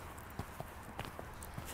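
Horse hooves in a canter during a riding lesson, a few soft muffled thuds spaced unevenly over a steady background hum, fairly faint and distant.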